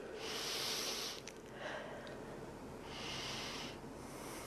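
Slow, deep breaths during a yoga warrior pose in a stress-relief class, two long airy exhalations close to the mic separated by a quieter pause, with no talking.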